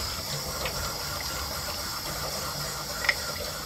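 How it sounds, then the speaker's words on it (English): Running water pours steadily from a tap while an old toothbrush scrubs a dug-up embossed glass bottle, a continuous hiss and gush with faint brushing and a small clink near the end. "Just hold it under the water and just brush it all around."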